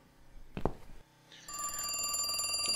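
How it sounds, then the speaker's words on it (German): Telephone rings in the video game The Cat Lady, a loud electronic ring that starts partway through and holds steady to the end, after a brief clunk of game sounds. "ich kann auf Mitzi ewig warten, wenn ich nicht an das Telefon gehe"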